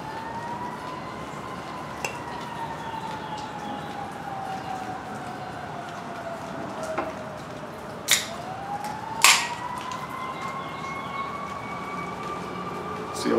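An emergency vehicle siren wails slowly rising and falling in the distance, sustained throughout, with a couple of sharp nearby clicks over it.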